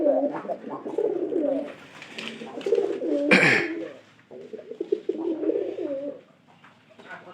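Domestic pigeons coo in soft repeated phrases close by, a throaty warbling that pauses once amid a brief rustle and then resumes.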